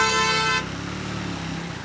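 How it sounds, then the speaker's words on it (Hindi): A vehicle horn blares steadily for about half a second in city traffic, then cuts off, leaving the low rumble of a motorcycle engine and road noise. The rider is on a Triumph Speed 350. "लोगों को हॉर्न बजाने की पता नहीं क्या बीमारी रहती है"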